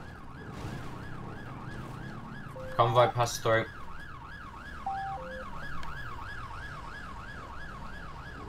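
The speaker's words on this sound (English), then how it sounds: "Cut sirens." Police sirens wailing continuously in GTA 5 during a roleplay prison escort, a steady wavering siren with a vehicle engine underneath, while someone speaks briefly over the radio.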